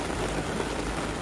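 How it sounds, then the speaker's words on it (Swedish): Heavy rain shower pouring down at a car racing festival pit area, a steady dense hiss of rain on surfaces, moderately loud and continuous with no voices. "för nu kommer värsta regnskuren här"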